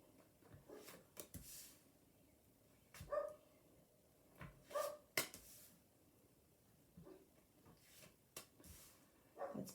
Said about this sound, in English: It's Boogie barking in the background.